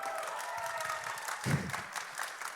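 A church congregation applauds with steady, moderately distant clapping from many hands, swelling slightly midway, with a low voice briefly audible beneath.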